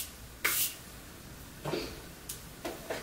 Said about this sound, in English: I'm going to add a little bit of my setting spray